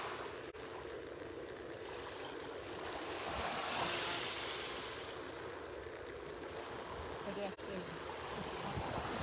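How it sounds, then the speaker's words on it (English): Gusty easterly wind buffets the microphone on a beach in North Naples, Florida, a steady broadband roar over the surf that swells louder around the middle and stays constant throughout, with no talking. "Got a little wind coming out of the east here. Gusting up to maybe 20 miles an hour at times, so gets a little noisy."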